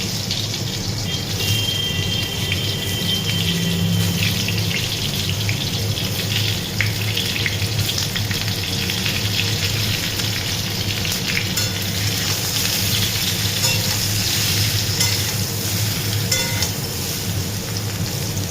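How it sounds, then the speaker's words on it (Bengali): Mango pieces for a Bengali-style mango pickle are lightly fried in hot oil, giving a steady, continuous sizzle and hiss that holds at an even level throughout with no talking. "আমগুলো একটু হালকা ভেজে নেব। তেলটা গরম হয়ে গেছে,"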